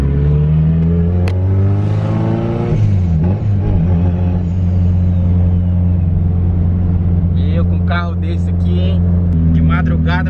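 Nissan 240SX engine running on a city street, a steady low rumble with rising revs, heard inside the car under ongoing conversation.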